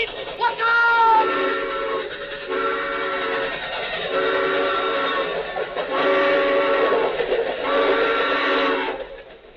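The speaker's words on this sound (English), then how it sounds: "The train! Look out!" A train horn blares in long sustained chords, sounding repeatedly as the rumble of a nearby train builds and carries on loudly.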